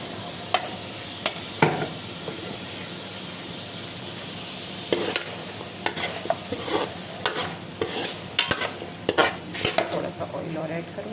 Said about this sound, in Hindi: ये बॉइल्ड मेरा मटन है और इसको करंटली कर रही हूँ मैं फ्राई